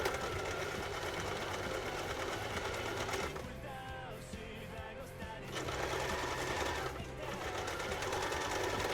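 A domestic sewing machine stitches fursuit fabric in a close, loud, steady whirring run that briefly slows and eases off midway before picking back up, with no voices.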